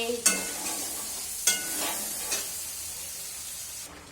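Vegetables with green chillies are stirred and sautéed in a pan, with a steady sizzle broken by three sharp spatula scrapes against the pan; no one speaks.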